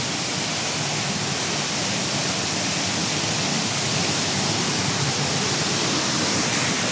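Steady, loud broadband roar of a waterfall at Kasabangan falls, constant rushing water filling the whole clip with no voices over it.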